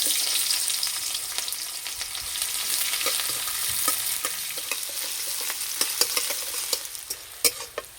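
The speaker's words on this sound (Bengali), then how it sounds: "তেলে দেবো পেঁয়াজ," Onions frying in hot oil in a wok, added to leftover spice-fried oil while cooking a chickpea and potato curry, give a steady dense sizzle with scattered crackles and stirring clinks, close and continuous.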